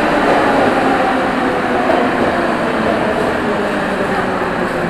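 Loud, continuous rumble and roar of a Warsaw metro train pulling into a station, filling the space with broad steady noise.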